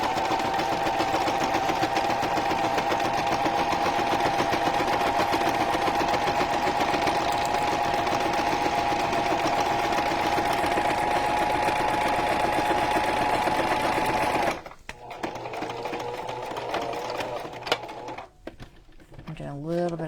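A sewing machine runs fast and continuously for about fifteen seconds, stitching paper bag pockets, then stops and gives a few short bursts of back stitching, loud and close.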